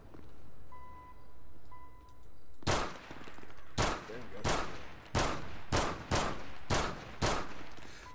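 Gunfire in GTA 5 roleplay: after a few seconds of quiet with soft beeps, a string of loud, close shots cracks out in uneven bursts, roughly eight or nine blasts in quick succession.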